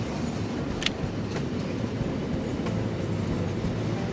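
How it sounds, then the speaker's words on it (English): A train rumbles along at slow speed in the video game Conduct DELUXE, a continuous, dense rolling roar with faint clicks and a brief high squeal near the start, with no voices. "Just gonna inch this train along instead."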